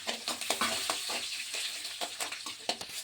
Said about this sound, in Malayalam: കടുക് പൊട്ടിയതിന് ശേഷം കുറച്ച് ഉലുവ അതിലേക്ക് ഇടുക. അതിനുശേഷം ഇഞ്ചി ഇടുക.